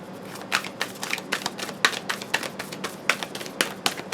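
Quick, crisp flutters and taps of tarot cards being shuffled, arriving in short bursts at a loose, uneven rhythm close by.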